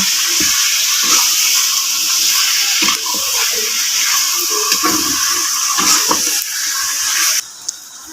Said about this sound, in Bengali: গরু মাংস কষানোর পর পরে আমরা পানি দিয়ে দিব